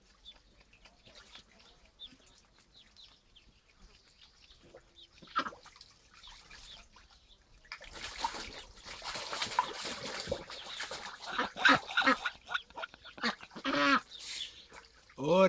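Farmyard ducks quacking and splashing about in water, with geese and chickens also calling, starting faint and sparse, then becoming loud, busy and continuous halfway through, with a person talking intermittently over the birds.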